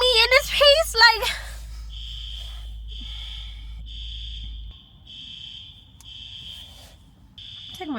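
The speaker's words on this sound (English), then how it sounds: "The fire alarm goes off in the mother loving building." Inside a building, a fire alarm sounds repeated high beeping tones in a steady rhythm, moderately loud. A person talks and sniffles near the start before the beeps take over.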